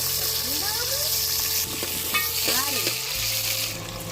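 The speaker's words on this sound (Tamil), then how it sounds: "நம்ம அடுத்து வந்து வெங்காயம், பச்சை மிளகா, கருவேப்பிலை எல்லாத்தையும் போட்டுட்டு நல்லா வதக்கும்" Small onions, green chilli and curry leaves frying in hot oil with mustard seeds, a steady close sizzle with stirring scrapes and clinks of a spoon against the pan, no talk.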